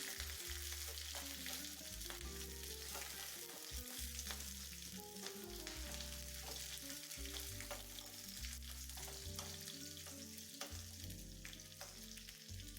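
Dried red chillies and green chillies sizzle steadily in hot oil for a Kannada bele saaru, with a continuous loud frying crackle and occasional stirring scrapes, no voices.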